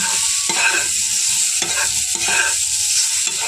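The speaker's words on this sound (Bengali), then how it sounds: "দিয়ে খুব ভালোভাবে আলুগুলোকে লাল লাল করে কিন্তু ভেজে নেব" Potatoes seasoned with salt and turmeric fry in a pan, a steady loud sizzle broken by repeated scraping stirs at regular intervals, close by and alone.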